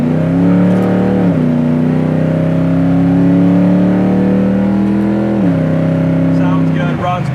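A 1966 Chevy Nova pro-street car's engine runs loud and close with steady harmonic rumble, rising in revs at two points, with talk faintly underneath.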